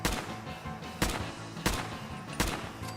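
Gunshots from Fallout 4 fire four times in about three seconds, loud and close, each sharp crack trailing into a booming tail, with no voices.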